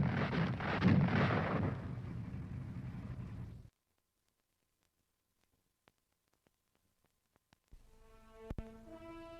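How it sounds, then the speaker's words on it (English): Automatic weapon on a Cold War tank firing 240 rounds a minute: a loud, dense roar of rapid fire for several seconds, then an abrupt cut to near silence, ending with a faint tonal hum. "When it is used as a fully automatic weapon, it fires 240 rounds a minute."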